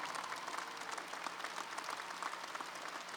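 A university commencement audience at UMass Boston applauds continuously, a dense, steady wash of many hands clapping heard from a distance.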